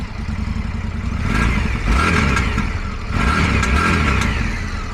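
A 2025 Indian Scout Bobber motorcycle engine revs loudly up close in two rising bursts over a throaty idle, with mechanical clatter between pulls.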